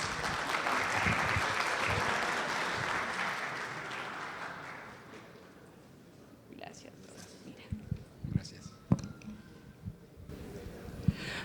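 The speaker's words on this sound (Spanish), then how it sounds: "Recibámoslo con un fuerte aplauso." An audience at an international conference welcomes a speaker with a burst of applause that swells for a few seconds and then fades, leaving a quiet room with scattered knocks and rustles.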